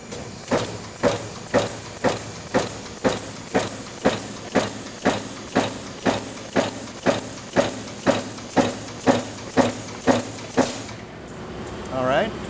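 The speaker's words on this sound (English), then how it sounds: "So it's a die cutting machine." A die cutting machine in an American whistle factory stamps brass whistle parts two at a time with steady, evenly spaced mechanical thumps, about twenty strokes over the hum of machinery.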